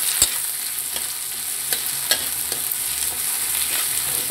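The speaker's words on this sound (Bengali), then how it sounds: "এই রসুন পেঁয়াজ যেটা দিলাম সেটা ভেজে নেব" Chopped garlic and onion fry in hot oil in a pan, giving a steady soft sizzle and crackle with occasional light clicks of stirring. It is moderately quiet and close, with no one speaking.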